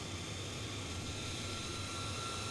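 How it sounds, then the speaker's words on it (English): Jet engines of a large, slow airplane spool up to speed with the APUs switched off, heard as a steady, broad roar with a faint high whine and a low hum throughout, no voices. "all of our engines are coming up to speed"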